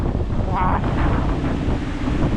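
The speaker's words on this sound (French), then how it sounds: "il y a un vent" A strong wind blasts across an open farm field at wheat-sowing time, a loud, continuous roar buffeting the microphone, with a brief grunt from a man partway through.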